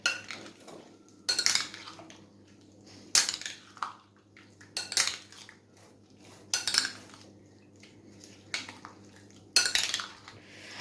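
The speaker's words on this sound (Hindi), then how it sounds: "अब हम इसको मिक्स करेंगे।" A spoon mixes fruit chaat in a bowl, producing repeated close bursts of clinking, scraping and squelching roughly every one to two seconds, with quiet pauses between.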